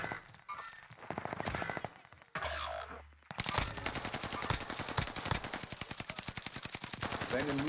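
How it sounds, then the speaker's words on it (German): Rapid automatic gunfire in Call of Duty Warzone on Caldera, long dense bursts of machine-gun shots with a short lull partway through, close and loud under casual player chatter. "ich schieße irgendwo gerade hin"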